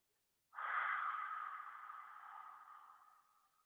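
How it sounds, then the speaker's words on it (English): A single long deep breath during a children's yoga session, a breathy rush of air that starts abruptly, peaks early and slowly fades over about three seconds, close and fairly quiet with no talk. "Again, deep breath. Breathe in."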